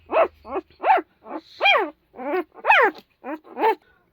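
A mother dog guarding her puppies gives a close, loud string of about ten harsh growling barks, each one short with brief gaps between them.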